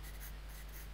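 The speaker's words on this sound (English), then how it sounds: "I'm just going in and strengthening some lines that really need, you know, proper pencil lines there." A pencil scratches lines onto paper to strengthen a drawing, a faint continuous rubbing close to the page.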